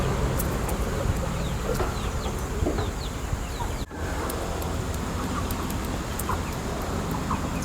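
Aseel chickens cluck and call on a Karnataka farm, with several short calls scattered over steady outdoor background noise.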